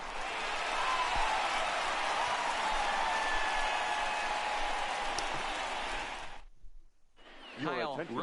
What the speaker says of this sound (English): So he receives a nice ovation from this home crowd